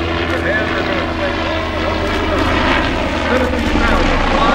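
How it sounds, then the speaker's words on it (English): Red Bull Eurocopter BO-105 helicopter flying aerobatics at EAA AirVenture 2011, a loud, steady rotor and engine roar that holds through the whole stretch with slight swells, while an announcer talks over a public address. "a totally aerobatic helicopter, Mr. Chuck Aaron, ladies and gentlemen."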